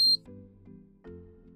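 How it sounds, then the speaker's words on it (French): A short, bright electronic beep at the start, followed by quieter low tones in an otherwise quiet room. "Le récepteur doit émettre deux bips."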